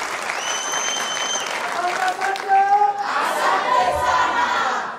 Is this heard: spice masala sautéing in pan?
no